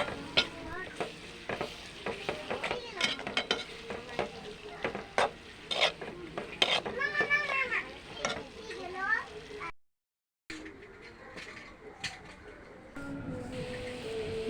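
Onion, green chili and garlic sautéing with turmeric, chili powder and salt: close sizzling with frequent sharp scraping and stirring clatter, briefly cut to silence partway, then a softer sizzle resumes, with faint voices in the background.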